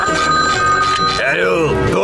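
A telephone rings loudly in a SpongeBob cartoon, a bright electronic trill that carries straight through, with cartoon voices speaking over it.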